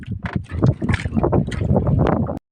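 A small fishing boat heads out to sea, its loud, close, continuous churning rumble mixed with wind buffeting the microphone, then cutting off abruptly.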